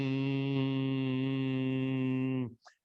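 A steady, buzzing hum from Bhramari yogic breathing, a voiced imitation of a buzzing bee, held evenly for about two and a half seconds before cutting off into a faint breath.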